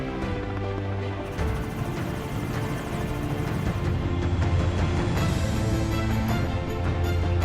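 A helicopter used for darting elephants drones steadily throughout, its low rotor thrum and engine noise loud and continuous, with no speech over it.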